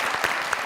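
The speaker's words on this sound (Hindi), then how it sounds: "जरा जोरदार तालियां।" Studio audience applause on a Pakistani comedy talk show, a short dense burst of clapping from the crowd, loud and steady with no talk over it.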